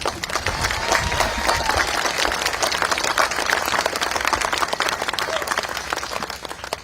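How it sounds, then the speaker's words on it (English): Sustained audience applause at a memorial gathering honoring journalists, dense steady clapping from a large crowd throughout, fairly loud and even with no talking over it. "Let's give it another round of applause."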